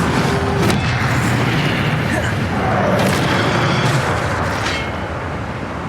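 Fire spell blasts in the Hogwarts Legacy video game, booming bursts over a loud, dense rumbling roar of combat that stays close and continuous before easing slightly near the end.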